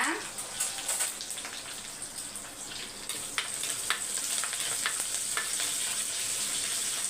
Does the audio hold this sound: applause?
no